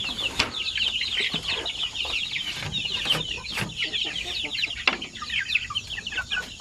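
Many chickens cluck and chatter together nearby, a busy overlapping flock with occasional sharp knocks.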